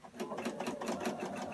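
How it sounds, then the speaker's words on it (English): A sewing machine runs in a steady fast stitching rhythm while sewing a paper-pieced New York Beauty quilt block, close and continuous with no talk. "flip it over, and go to the sewing machine"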